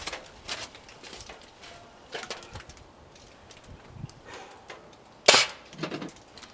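A .22 high-power air rifle shot at a hockey puck gives one sharp, loud crack with a ricochet snap near the end of an otherwise quiet outdoor stretch with light rustling and scattered small knocks.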